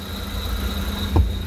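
A Korean car idles with its engine running, a steady low hum and a faint high whine holding level throughout, broken near the end by a short squeak.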